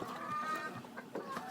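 Hens on a French-speaking egg farm clucking close by in short, choppy bursts over a little more than a second.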